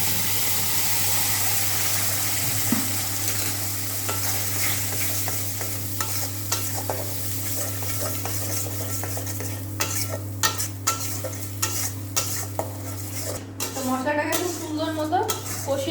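Turmeric and ground spices fry in oil for a Bengali chicken bharta, a steady sizzle under continuous stirring and scraping of a utensil against the pan, with a low hum throughout and a voice speaking over it.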